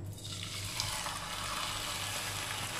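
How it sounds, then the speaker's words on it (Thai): Steady, close sizzling of chicken frying in a hot pan with sesame oil, a continuous crackling hiss with no voices over it. "พอกระทะเริ่มร้อนเราใส่ไก่ลงไปค่ะ"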